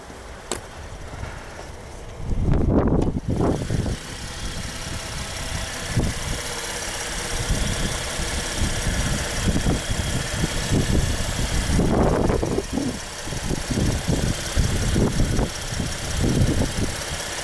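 A 2021 Chevrolet Traverse with its 3.6 V6 engine idles with the hood open, a steady, close mechanical hum with a light ticking texture, briefly rising in a couple of short surges.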